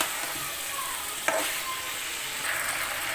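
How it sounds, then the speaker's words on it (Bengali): Chicken and potato pieces are sautéed together with ginger-garlic-cumin paste and ground coriander: a low, steady sizzle with one sharp clack of a utensil partway through, and no voices. "আদা রসুন জিরার পেস্ট আর ধনিয়া গুঁড়া দিয়ে আরও কিছুক্ষণ হচ্ছে মাংস আর আলুটা আমি একসঙ্গে কষাতে থাকবো"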